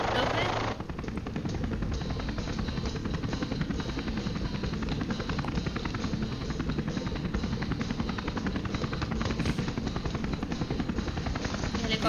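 A helicopter in a film scene drones steadily and loudly with a fast rotor chop throughout, filling the whole stretch while voices talk faintly underneath.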